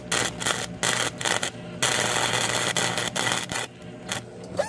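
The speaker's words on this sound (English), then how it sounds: "Kind of hoping this thing would actually bite and just weld instead of pop, pop, pop, pop, pop, pop." A welder pops and crackles in rough, stuttering bursts while repairing the deck of a Snapper Pro mower. The arc sputters in on-off spurts instead of holding a steady weld, close and harsh.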